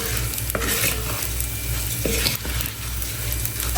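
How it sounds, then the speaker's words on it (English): Rice stir-fried in a pan, Caribbean-style fried rice, gives a steady dry rustling sizzle like paper or dry leaves, with a few scraping stirs of a utensil against the pan, close and continuous without talk. "it sounds like dry paper moving or dry leaves. That's what you want to hear. That's how you know your rice is fried to where you want it to be."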